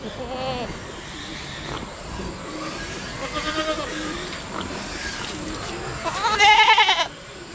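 Goats bleat on a farm, several nasal wavering calls close by, with one loud drawn-out bleat near the end and a person talking quietly in between.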